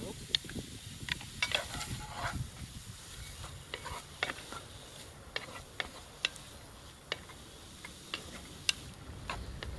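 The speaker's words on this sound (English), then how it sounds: "Hey, that's a good sizzle." Chopped onions and celery sizzle in hot oil in a home kitchen, a soft continuous hiss broken by frequent sharp crackles and pops through the whole stretch.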